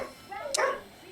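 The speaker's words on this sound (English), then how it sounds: "sorry if I'm a little distracted by the barking here" A single short dog yip or bark, close and brief, rising out of low background noise.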